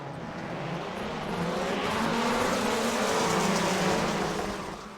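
Rallycross race car engines in a racing video game roar together on a gravel starting grid, a dense sustained rumble that swells in pitch and volume as revs climb, then eases slightly.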